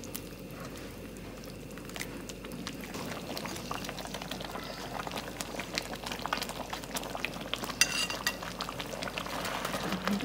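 Peanut sauce for Padang-style gado-gado simmers in a pan over very low heat, a steady bubbling hiss with soft liquid pops and occasional faint clinks, alone and without talk throughout.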